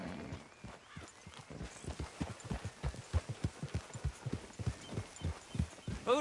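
In the Red Dead Redemption 2 video game, a horse gallops along, its hooves clip-clopping in a fast, steady rhythm of distinct thuds that continue for several seconds at moderate volume.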